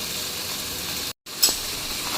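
Food sautéing in a frying pan, a steady broadband sizzle running throughout, broken by a brief gap of silence and a small clatter midway.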